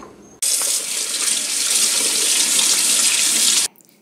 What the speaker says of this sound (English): Before we get started, let's wash our hands.